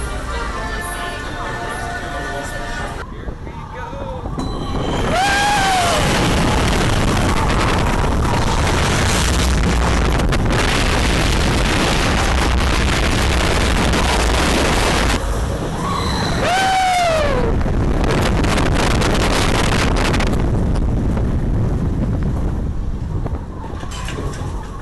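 Loud, constant wind roar on the Verbolten roller coaster at Busch Gardens, rushing steadily throughout the ride with brief whooshing sweeps and faint rider voices beneath.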